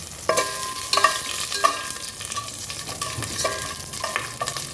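Whole cardamom, cloves and cinnamon stirred in hot oil in a pan while cooking chicken tehari, giving a steady close sizzle with repeated scraping clicks of the spoon, no talking.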